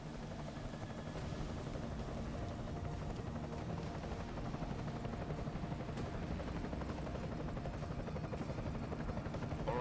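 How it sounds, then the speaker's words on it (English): An enemy helicopter in Deus Ex: Mankind Divided holds a constant rotor thrum and steady whine throughout, fairly quiet and alone, with faint rhythmic blade chop and no talk. "Enemy helo sighted."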